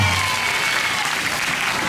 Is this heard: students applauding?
yes